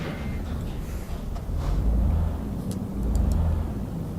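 A heavy Volvo truck engine in Euro Truck Simulator 2 rumbles low and steady, swelling louder twice as it revs, with a few faint clicks over the drone.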